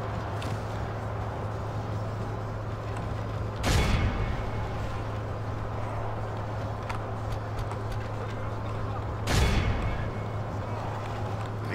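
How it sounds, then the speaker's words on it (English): Artillery fire in a Warcraft Total War mod game battle: two heavy booming blasts several seconds apart, rising above a continuous din of battle noise and a steady low hum. "Oh, they have artillery."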